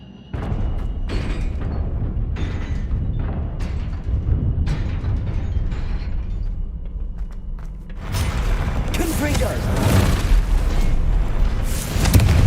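Confringo spell explosions in the Hogwarts Legacy video game: a run of deep booms and crackling bursts, loud and close, building to a denser, harsher roar near the end.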